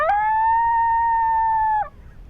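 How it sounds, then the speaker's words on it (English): A lonesome coyote howl sounded at night during a coyote hunt, a single loud, sustained, steady-pitched note of nearly two seconds that ends with a quick downward slide, alone against a quiet background. "Ah, the old lonesome coyote howl."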